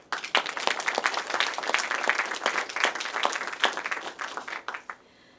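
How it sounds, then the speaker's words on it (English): Warm audience applause at a panel discussion on the 1945 liberation of Manila, a moderately sized crowd clapping with distinct sharp claps audible, sustained for several seconds before tapering off and stopping near the end. "Please give them a warm applause."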